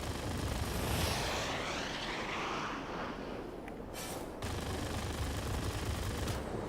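Aircraft machine guns firing from an FJ-1 fighter in the game World of Warplanes, a steady rattling stream over the loud drone of the jet engine.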